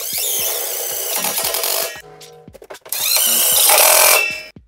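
A power screwdriver drives a screw through two interlocking metal drywall studs in short whirring bursts with pauses between them, with a grinding rasp as the screw bites through the steel, close up and without speech.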